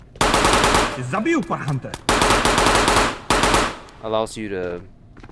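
A MAT 49 submachine gun fires in the video game Ghosts of Tabor. Loud, close bursts of rapid automatic fire come in several strings separated by short pauses, with mechanical clicks and rattles between them.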